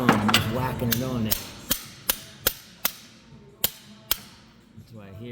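A valve cover being hammered back down onto a bent bolt on a Ranger engine: about nine sharp metallic whacks in an uneven rhythm, close and loud, with a person talking before and after.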